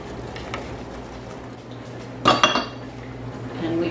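Metal canning jar lids and rings being handled while preparing to jar blackcurrant jam, a faint kitchen background broken by a brief cluster of clinks and clatters near the middle.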